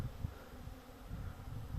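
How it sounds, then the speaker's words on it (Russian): Honey bees hum in a low, continuous drone around an apiary on a warm summer day, a faint, steady buzz from many insects with no talking. "Вот так вот пасека гудит."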